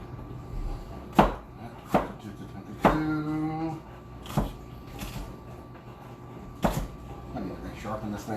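Blunt-tipped kitchen knife chopping peppers and onions on a board in a home kitchen, a handful of sharp separate knocks spaced irregularly, close and fairly loud, with people talking in between.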